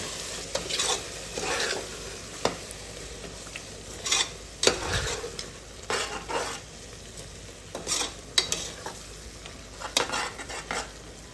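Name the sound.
stirring yogurt and salt into mushroom biryani masala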